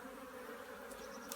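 Honeybees buzz in a steady, dense drone while a hive is reassembled after an inspection, close and continuous with no talking.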